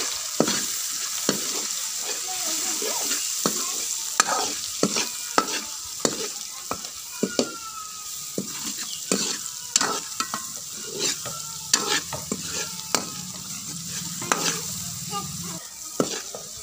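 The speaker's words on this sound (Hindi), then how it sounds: "हम इनको हिलाएंगे" Potatoes and peas frying with turmeric in a pan, stirred with a spoon: a steady soft sizzle broken by repeated sharp scraping clinks at an uneven rhythm, close and clear.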